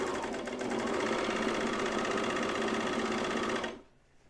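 A serger stitches a fabric seam on a Deer and Doe Bleuet dress, running at a fast, steady, close-up whir before stopping abruptly near the end.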